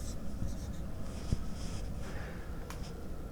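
A pen or marker writing out an equation, continuous scratchy strokes with small taps, close and fairly soft against a faint background hiss.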